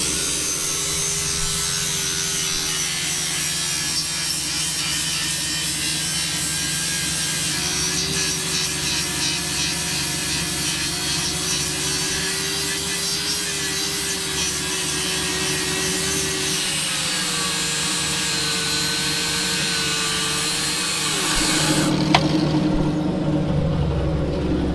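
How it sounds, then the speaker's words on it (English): An angle grinder grinds down a steel pitman arm in a welding shop, a loud, steady, continuous whine that runs unbroken for over twenty seconds before cutting off near the end, with no talking. "You want a grinder? We can grind it down now"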